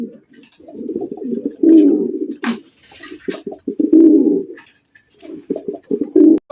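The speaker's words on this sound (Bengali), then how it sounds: "এত সুন্দর একটা গোল্ডেন কালারের আর্চেঞ্জেল কবুতর মাত্র অনলি আজকের জন্য 3000 টাকা নিতে পারবেন" Golden Archangel pigeons, a breeding pair, cooing loudly and close by in repeated throaty bursts, with a brief sharp rustle midway and no speech.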